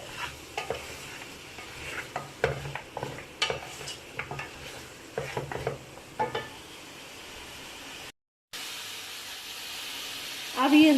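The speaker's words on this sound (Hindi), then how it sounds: "इसको तब तक भूनेंगे जब तक इसका कलर ना चेंज हो जाए" Mutton karahi stir-fried in a pan: repeated soft scraping stirs over a low, steady sizzle, fairly quiet and close, with a brief silent gap near the end before a louder burst.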